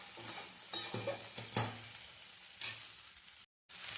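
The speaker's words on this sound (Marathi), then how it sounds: "परतायचं तिला वर खाली, जेणेकरून भाजी आपली खाली चिटकू नये" Okra and potato sabzi fries quietly in a pan, a soft, low sizzle with intermittent scrapes and taps as it is stirred over and under, close by and without speech, ending in a brief gap.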